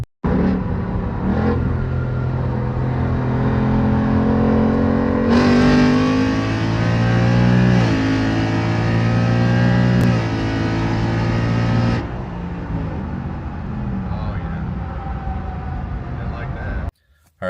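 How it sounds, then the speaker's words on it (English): A 2019 Ford Mustang 5.0 V8 with its catalytic converters deleted revs and accelerates hard in a loud, close run, the engine note climbing steadily through a strong pull before settling back to a lower rumble. "We're going to go do a quick pull to see how it feels and see what it sounds like"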